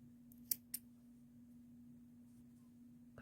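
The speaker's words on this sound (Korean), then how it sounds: "실을 한 5cm 정도 남기고 잘라주세요." Yarn snipped with scissors while crocheting a 3D duck-shaped dish scrubber: two quick, crisp snips close together, then quiet with a steady low hum underneath.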